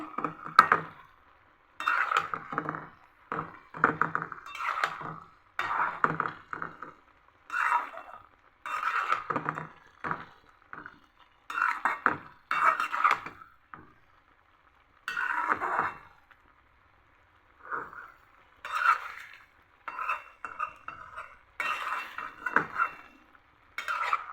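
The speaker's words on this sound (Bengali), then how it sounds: "পালং শাকটা আমি নেড়ে দিচ্ছি।" Spinach cooked with lentils is stirred in a pot in repeated short bursts of scraping and clinking, separated by brief quiet gaps, close but moderately soft.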